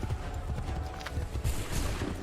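A horse gallops in the Assassin's Creed 3 video game, its hoofbeats a steady, muffled clip-clop under a dense wash of background game noise and distant battle din.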